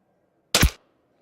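A single sharp rifle shot fired through a Zeiss Conquest V4 4-16x50 scope during a range test, one loud crack with a quick decay, then quiet.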